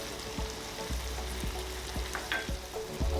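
Chopped tomatoes and spices for butter chicken fry in a pan with a steady sizzle. Regular light clicks of a utensil stirring sound every half second or so.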